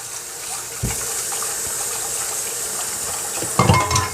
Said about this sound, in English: So I just washed my rice in some cold water.